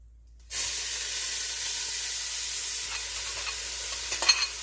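Onions hit hot extra virgin olive oil in a pan for beef Hungarian goulash, bursting into a sudden loud, steady sizzle that holds on with a few crackles near the end.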